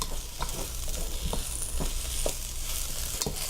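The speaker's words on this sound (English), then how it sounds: "now these we're going to stir fry for 4 minutes" Vegetables for Mongolian beef with steak stir-fry in a hot pan, giving a steady close sizzle with scattered clicks and scrapes of stirring throughout.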